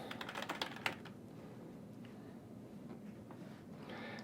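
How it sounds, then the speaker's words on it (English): Computer keyboard typing in a quiet room: a quick run of crisp key clicks in the first second, followed by a few faint, scattered taps over low background hiss. "In the search bar, type in ConveyThis"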